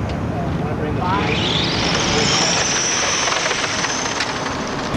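A car on a timed race run whines upward in pitch as it accelerates, a loud, sustained engine sound over a rumbling background.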